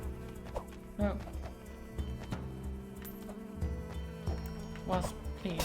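A wasp buzzes in the video game Chasm, a droning hum under a voice, with sharp in-game hits and thumps cutting in now and then.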